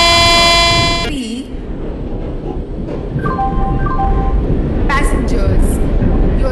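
An Indian Train Simulator train rolls through with a long horn blast at the start, then steady rumbling wheels and the clatter of cars, with a few brief toots and a loud station announcement voice over the noise.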